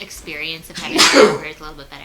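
A single loud sneeze bursts out mid-conversation, close to the microphone, with a person talking just before and after it.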